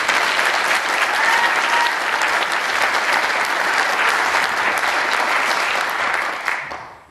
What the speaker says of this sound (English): How about another round of applause for Tech Sergeant Krista Joyce and this terrific band.